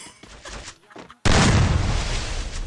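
Gunfire in a multiplayer PvP shooter video game erupts as a sudden loud burst after a stretch of excited shouting from a player, then sustains a dense, noisy roar to the end.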